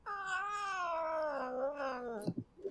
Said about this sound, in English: She might meow occasionally, because she's a little shithead kitten.